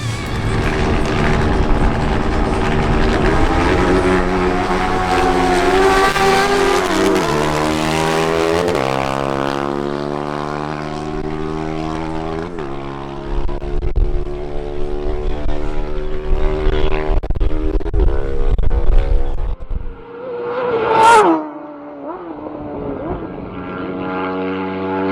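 Honda CBR 1000RR motorcycle on a quarter-mile drag strip, loud engine screaming up through successive gear shifts, each rising pitch sweep stepping down then climbing again, fading off before a sharp burst near the end.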